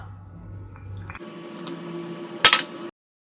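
Water is poured into a bowl of sweet orange bun dough mixture that already holds egg, yeast and milk; a short, even trickle ends in a brief splash and then silence.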